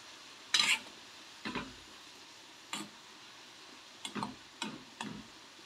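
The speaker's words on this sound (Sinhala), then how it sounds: "මේ වගේ රන්වන් පාට වෙන්න බැදගත්තාම ලුණු ගොඩක් රසයි." Onions frying in a pan and stirred until golden, with a soft steady sizzle broken by several distinct scraping stir strokes, close and moderately loud, with no talking.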